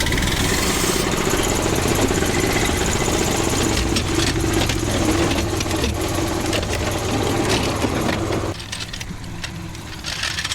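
An air compressor motor runs steadily to build up air pressure, a loud continuous mechanical drone with a busy rattling texture that eases slightly near the end.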